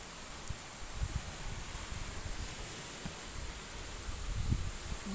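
Strong wind sweeping across a beach: a steady, faint rushing hiss with soft low buffeting gusts against the microphone, continuous throughout and with no voices.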